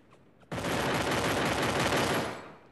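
Gunfire from the video game Free Fire erupts suddenly after a quiet moment, a loud, dense, continuous burst of rapid automatic shots lasting about two seconds before tapering off.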